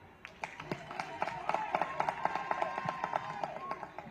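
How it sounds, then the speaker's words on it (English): An audience at a political party gathering claps, brisk uneven hand claps building from scattered hits into a dense run of applause at moderate distance. "we must thank you with a thunderous clap"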